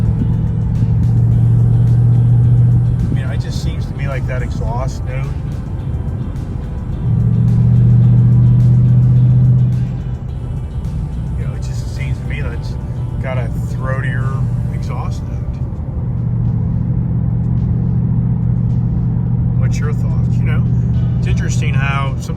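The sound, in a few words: car driving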